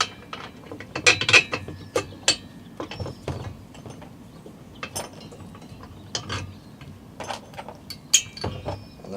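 A hand ratchet tightening bolts and lock nuts with washers on a motorcycle ride-on wheel chock, rapid clicking pawl bursts in short irregular runs with metallic clinks between, close and loud with no talking.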